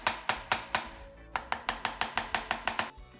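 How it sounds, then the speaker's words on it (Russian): A knife chops onion into small cubes on a cutting board, about a dozen crisp, evenly spaced strikes in two quick runs with a short pause between, close and clear with no talking. "Лук нарезаем мелким кубиком."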